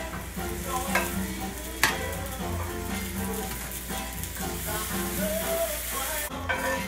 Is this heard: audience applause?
no